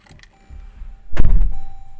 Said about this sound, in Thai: ปิดประตู เลย